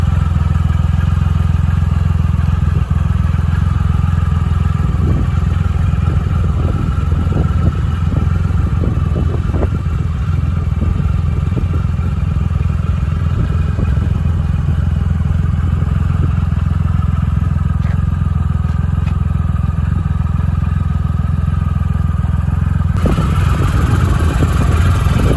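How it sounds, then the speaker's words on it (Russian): Triumph Rocket 3 Roadster motorcycle engine running loud and steady throughout, a deep rumbling idle with rises in throttle and brief revving surges, with some faint clatter. "Благодаря этим показателям Roadster Rocket 3 реагирует на открытие газа быстро, четко и уверенно"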